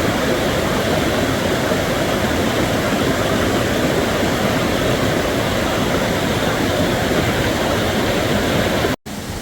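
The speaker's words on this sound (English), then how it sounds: "When I could hear the river on the other side" Steady, full rush of a flowing river near Pinkham Notch on the Appalachian Trail, loud and continuous with no pauses, broadband churning with no voices.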